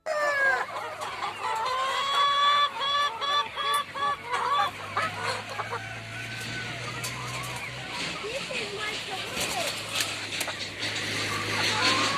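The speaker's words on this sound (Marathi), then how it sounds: "कोंबड्यांचा जो आवाज आहे ना तो खूप जास्त मोठा आहे" A dense chorus of chickens clucking and squawking inside a shed, loud and continuous, with occasional crowing and a low hum underneath.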